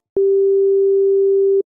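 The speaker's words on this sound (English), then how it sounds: "It's loaded with a sine wave and it sounds like this." A pure, steady sine-wave tone from a synthesizer oscillator in the Thor synth, held alone at a constant loud level for about a second and a half, starting and stopping abruptly.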